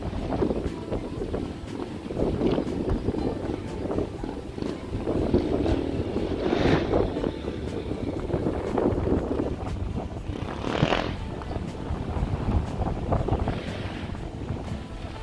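Strong wind buffets the microphone on a lake boardwalk, a steady loud rumbling roar with gusts rising and falling throughout, and faint background sounds beneath it.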